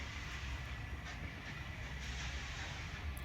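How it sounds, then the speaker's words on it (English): Swanage Railway steam train passing near Corfe Castle in Dorset, a faint, distant rumble of wagons on rails with soft rhythmic clatter and light hiss, steady throughout. "this is the Swanage Railway and the Swanage steam train, which just runs alongside"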